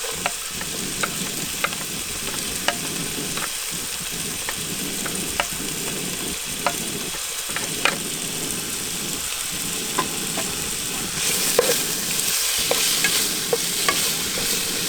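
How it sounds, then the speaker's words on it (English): Fish cooking in a pan of hot coconut oil, a steady close sizzle and crackle with occasional pops, running the whole time and rising a little louder near the end. "Add a little bit of oil. I like coconut oil. And then you start cooking your fish."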